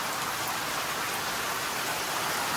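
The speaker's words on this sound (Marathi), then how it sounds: "खूप असा जोराचा पाऊस पडतो" Heavy rain pours down around a house, a dense, even hiss of drops that stays loud and unbroken from start to finish.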